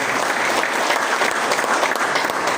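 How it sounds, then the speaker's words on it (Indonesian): Steady, dense applause from a ceremony crowd honouring a police sub-district chief at an installation event in Pancoran Mas, continuous and close throughout. "Kita beri aplaus kepada Bapak Kapolsek"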